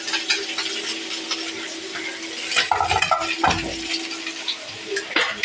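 Chopped onion sizzles in a pan with scraping and stirring strokes and occasional utensil clatter against the metal, fairly close.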